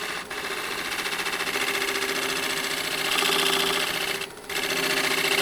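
A woodturning skew chisel is held against a bench grinder wheel, making a loud, steady grinding whine that drops out briefly twice as the tool is lifted and flipped over.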